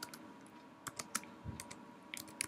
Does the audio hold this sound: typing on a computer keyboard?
yes